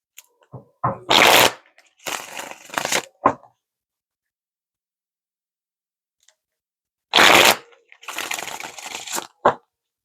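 Two bursts of tarot cards being riffled and shuffled up close, each a crisp rushing flutter followed by softer sliding and tapping, separated by several seconds of silence.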